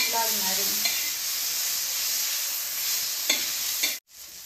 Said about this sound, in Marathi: टोमॅटो पण आपल्याला छान मस्त परतून घ्यायचं आहे.